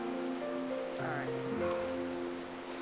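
Rain patters steadily on surfaces in a VRChat game world, a constant soft hiss beneath sustained musical tones.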